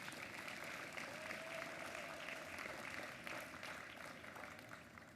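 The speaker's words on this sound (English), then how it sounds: "So let's give another round of applause for the referees," Applause for the referees at the opening ceremony of a state robotics championship, a broad, distant-sounding crowd clapping that stays steady and fairly quiet throughout.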